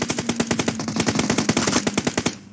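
Rapid automatic gunfire from a battle royale video game bursts in a fast, even rhythm, loud and close, with the shots running almost continuously before cutting off near the end.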